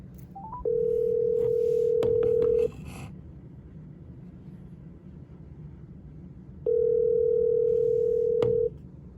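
A phone call rings through an iHip Jambar wireless speaker: two steady electronic ring tones, each about two seconds long and several seconds apart, heard close and clear over a faint background hum.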